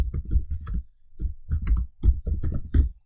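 Python code being typed on a computer keyboard, with bursts of close, rapid key clacks broken by brief pauses, fairly loud and with no voice.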